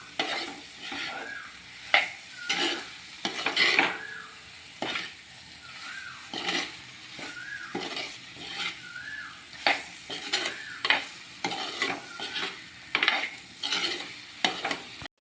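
Papaya pieces being stirred in a hot pan for a roasted-coconut papaya curry, a spatula scraping in repeated strokes over a steady close sizzle, with occasional metallic clinks against the pan and no talking.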